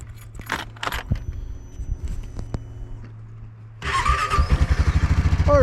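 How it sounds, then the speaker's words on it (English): A motorbike engine cranks and catches, settling into a loud, rapid, pulsing idle up close after a few seconds of quieter scraping and handling noises. "We're hoping the bike starts."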